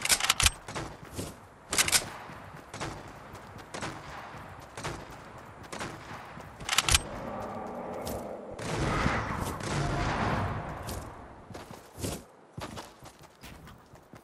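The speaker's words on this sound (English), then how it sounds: "Oh, I hear shooting." Gunfire in the video game Fortnite sounds as sharp, bursty shots scattered through the stretch, some loud and close, others fainter, over a busy layer of in-game movement and footsteps.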